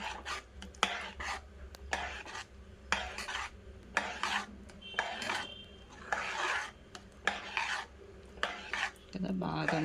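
Roasted masala being stirred into cooked pongal rice with a spoon in a pot, a series of scraping, rubbing strokes with short pauses between them, close by and with no talking.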